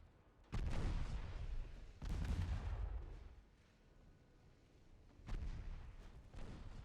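Naval big guns boom from battleships in Ultimate Admiral Dreadnoughts, with three heavy, deep, rumbling shots a couple of seconds apart, each trailing off, followed by a fainter fourth.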